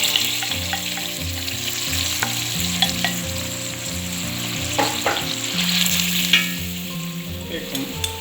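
Washed rice fries with peppercorns in a tempering pan for Sri Lankan yellow rice, a steady loud sizzle broken by scraping stirs and small pops, with faint tonal background music and no talk.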